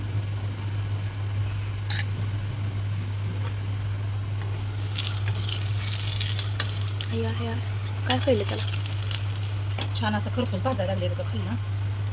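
Oil drizzled over a flatbread roasting on a hot tava sizzles steadily under a low, constant hum, while a voice talks briefly toward the end.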